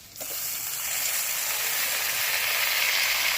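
Chopped large tomatoes drop into a hot pan with a sudden onset of sizzling that holds as a loud, steady hiss for the rest of the moment, near and without voices.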